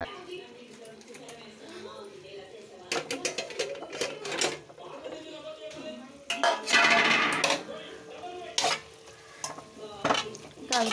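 Food frying in a pan with sizzling and repeated stirring scrapes, clattering bursts of the utensil over steady sizzle, with a voice talking at times.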